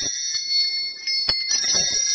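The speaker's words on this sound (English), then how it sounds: "I love these bells. They're special. They're antique. And they sound wonderful." Antique bells ring out with bright, sustained metallic tones, struck a few times in quick succession and fairly loud, accompanied by some light handling noise.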